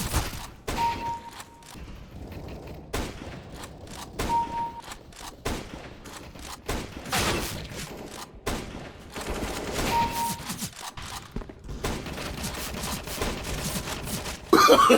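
CS:GO gunfire in a match, SSG no-scope shots: dense bursts of gunshots and thuds scattered through, loud and near, with little pause.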